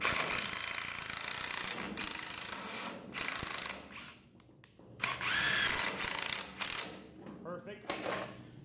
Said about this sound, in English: That means this drill impact here is 9 years old and she's running smooth as can be.